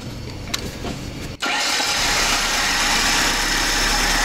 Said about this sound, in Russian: Заводим машину, пожалуйста.